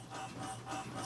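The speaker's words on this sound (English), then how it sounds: "Now I'll print out the picture with the ruler, the scaled ruler, on there too for future use." Desktop printer printing out a photo of an 1873 Springfield trapdoor carbine, a steady soft whirring and shuffling mechanism heard close but quiet, with no talking.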